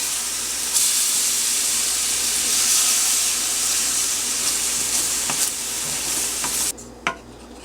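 Milk poured slowly into a hot pan of vegetarian sausage gravy while it is stirred, giving a steady, fairly loud sizzling hiss throughout, with a few sharper clinks and scrapes near the end.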